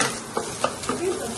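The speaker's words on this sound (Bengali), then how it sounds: "ডিমটাকে ভাজা হয়ে গেছে" An egg fries in a pan with a soft steady sizzle, broken by a few light scraping and stirring clicks close by.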